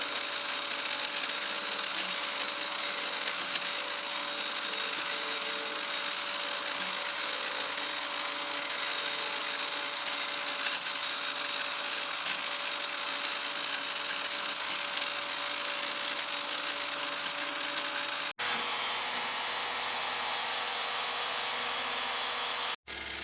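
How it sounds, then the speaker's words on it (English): A power tool cuts steadily through a metal ring from a lawn mower part, a continuous harsh grinding whine lasting about eighteen seconds before stopping, then resuming briefly. "I'm gonna have to cut through the ring in order to cut out the inside."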